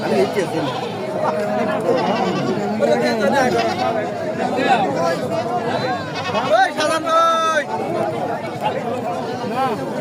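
At the Aricha livestock market, sheep bleat in wavering cries, with a clear close call near the end, mixed into dense crowd talk and nearby conversation.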